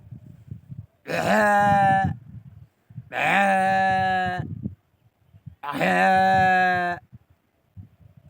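A voice imitates a sheep bleating three times, each call a long, wavering baa of about a second, separated by short pauses, with faint background murmur between calls.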